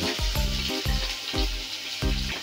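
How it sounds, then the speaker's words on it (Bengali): Chopped onion, two medium onions, dropped into hot oil with nigella seeds and slit green chillies for a Bengali rohu fish curry, giving a loud steady frying sizzle punctuated by repeated stirring knocks, close up and without talk. "এবার দিয়ে দেবো পেঁয়াজ কুচি"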